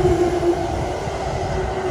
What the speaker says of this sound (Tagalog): Mas mabilis ang bullet train.